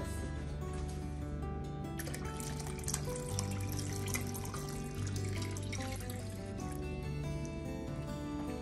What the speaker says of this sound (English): I'm going to add a little bit of warm water to this.